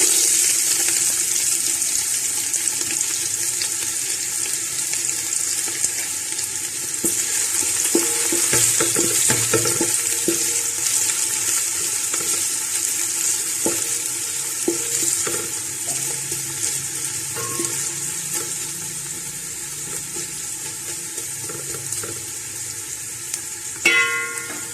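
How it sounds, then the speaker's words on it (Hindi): Onions sizzle and fry in hot ghee in a pot, a steady crackling hiss with scattered pops and occasional stirring scrapes, continuous and fairly close with no talking. "प्याज को हमने हल्का ब्राउन होने तक फ्राई करना है"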